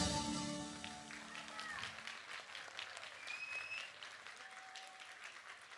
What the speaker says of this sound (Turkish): Alkışlar hepiniz için